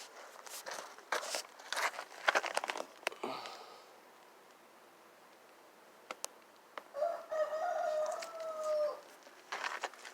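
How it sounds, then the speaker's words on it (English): A rooster crows once at middle distance, a single drawn-out call, after a stretch of scattered footsteps and knocks outdoors. "that rooster would have never made a noise"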